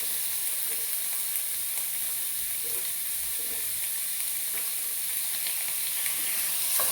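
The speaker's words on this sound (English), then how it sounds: "You want to add the shredded beef to the oil." Shredded beef sizzles in a modest amount of hot oil for a beef and vegetable stir fry, a steady, even hiss that keeps on without a break or any voices.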